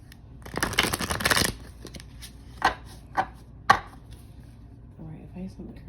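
Tarot cards being shuffled by hand, with a dense burst of riffling and rustling near the start followed by several separate sharp card taps and slaps, close and moderately loud.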